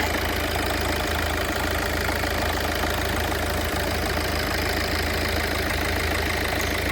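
A 2010 Tata Indica Vista Quadrajet diesel engine idles close by, a continuous low rumble with a fine mechanical rattle running evenly throughout, no voices.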